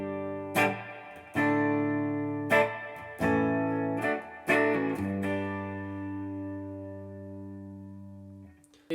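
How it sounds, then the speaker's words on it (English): Clean electric guitar through a long spring reverb, several single plucked notes and chords ringing out with long lush tails that decay slowly into silence. "I'm using the spring reverb, and it's a bit of a long spring reverb"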